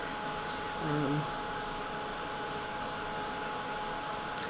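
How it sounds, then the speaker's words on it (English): A hair dryer blows over wet watercolor paint on a rust painting, a steady close whooshing drone with a brief hum of a voice partway through. "Probably because I'm not focusing the dryer up in those areas."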